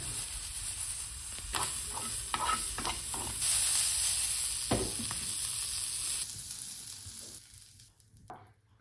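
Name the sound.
pan frying sushi roll with sesame oil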